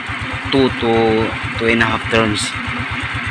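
Rusi Gala motorcycle engine idling during carburetor tuning with the air filter foam removed, a rapid, even low putter running throughout beneath someone speaking close by.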